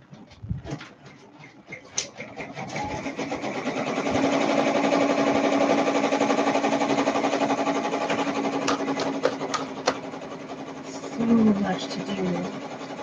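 A multi-needle embroidery machine stitches steadily through a T-shirt order, a dense continuous whirring hum with faint rapid clicks, running close and loud for most of the span, with a person talking intermittently over it.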